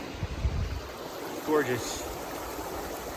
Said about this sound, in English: This fresh water, nice little stream.